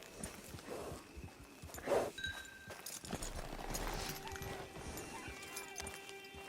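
Horse hooves clip-clop in Red Dead Redemption 2, a muffled steady walking rhythm with a brief snort or whinny-like burst, set against a busy outdoor camp ambience with distant background sounds.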